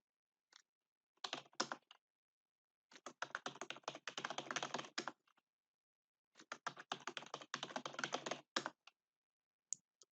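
Typing on a computer keyboard to enter a password, close and quiet, in three short bursts of rapid key taps separated by silence.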